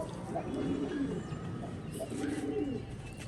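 Quiet pigeon cooing, two low burbling calls a moment apart, faint against a soft background hiss.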